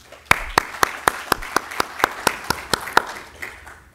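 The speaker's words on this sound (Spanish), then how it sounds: "Vamos a recibir al doctor con un fuerte aplauso." An audience welcomes a guest speaker at a lecture on Peruvian criminal law with rhythmic applause, a dozen sharp, evenly spaced claps that ring out loudly before fading into a softer patter.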